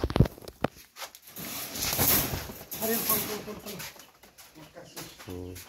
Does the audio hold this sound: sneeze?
no